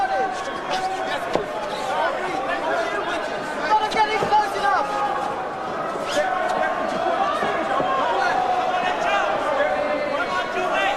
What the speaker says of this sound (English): Crowd here absolutely enraptured by this